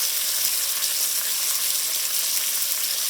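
Strips of salt pork fry in a pot for navy bean soup, giving a steady, dense sizzle that holds even throughout with no voices.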